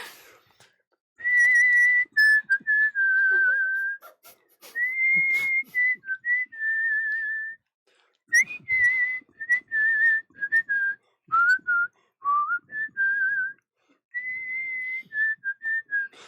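A man whistles a melody solo, clear and close, in long sustained phrases with bending pitches and short pauses between them, with no other sound behind.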